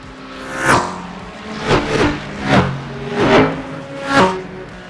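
Race car engines in a racing video game whine past in repeated sweeping bursts, about five loud revving passes that each rise and fall quickly.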